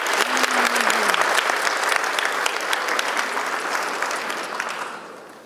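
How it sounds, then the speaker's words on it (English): A breakfast audience at a funeral service awards event applauds sponsors with a lively, fairly close round of clapping that gradually thins and fades toward the end. "Let's give all of our sponsors a round of applause."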